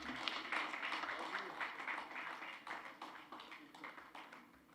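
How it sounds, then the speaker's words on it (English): An audience at an Indian Street Premier League tennis-ball cricket event claps steadily at moderate volume, a continuous patter of many hands that fades slightly toward the end, with faint speech mixed in. "I think we can give a bigger round of applause."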